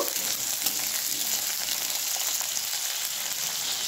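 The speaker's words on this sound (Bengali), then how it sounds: "প্রথমেই দিয়ে দিচ্ছি আলুগুলো একটু নেড়ে চেড়ে নেব।" Potatoes fry in mustard oil with black cumin seeds and green chillies, a continuous close, bright sizzle with faint stirring movements underneath, no voices.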